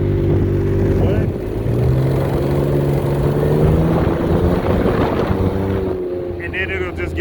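A Can-Am Ryker three-wheeled motorcycle, its engine surging unprompted with loud noises while it rolls along the road, a steady rough drone mixed with heavy wind buffeting throughout and shifting engine tones.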